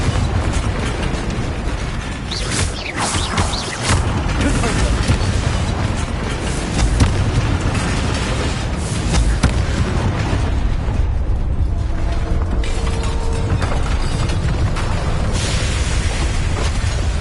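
Fiery Confringo spell explosion in the Hogwarts Legacy video game, a loud, sustained roaring blast with rumbling debris and crackling bursts that stays dense and powerful throughout, without any talking.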